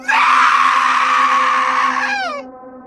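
A woman's loud, sustained scream in a horror story, lasting over two seconds alone before its pitch slides down and it breaks off.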